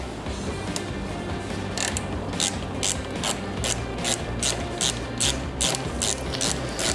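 A ratchet wrench clicks rapidly and steadily while bolts are unscrewed on a 2022 Harley-Davidson Road Glide ST during a tie-down bracket install, close and continuous with no voices.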